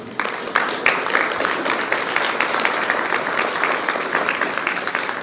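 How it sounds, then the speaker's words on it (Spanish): A room of people at a meeting gives a hearty welcome applause, many hands clapping in a dense, sustained burst that starts abruptly and continues at even strength for about five seconds. "reciba nuevamente un fuerte aplauso de bienvenida"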